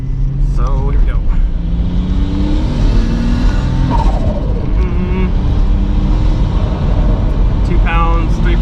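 A VR5-engined car accelerating under light turbo boost in second gear, the engine droning loudly and steadily throughout while someone talks over it.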